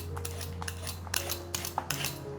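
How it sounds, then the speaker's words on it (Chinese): A carrot being peeled with a peeler, a handful of quick, crisp scraping strokes in an irregular rhythm, close but fairly quiet over a steady low hum, with no talk. "把红萝卜削皮"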